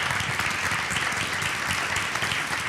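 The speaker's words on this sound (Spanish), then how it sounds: "Una aplauso más llena, por favor." Audience applause at a live interview event, a short burst of dense, steady clapping from a crowd, close and fairly loud, with no talking over it.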